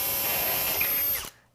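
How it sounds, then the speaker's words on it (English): Power drill boring a hole into a robot chassis during the build, a steady high whine running alone at close range for just over a second before cutting off abruptly. "I'm just going to get as close as I can to the previous hole and drill again"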